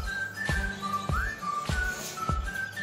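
A person whistles a repeated rising-and-falling call several times to call hens, clear and close, with a few low thumps underneath.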